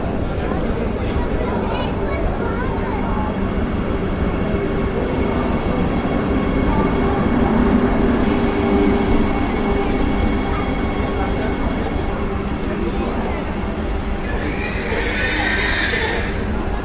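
A Vande Bharat Express train runs from Pune to Mumbai, producing a loud, steady rumble and rattle that continues unbroken throughout, with indistinct murmuring voices mixed in.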